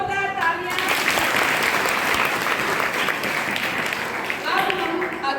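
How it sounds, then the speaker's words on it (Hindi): Schoolgirls from classes 6 to 8 at a school quiz on Mahatma Gandhi break into loud, sustained applause, a dense wash of clapping filling the room from start to finish. "चलो जोरदार तालियां।"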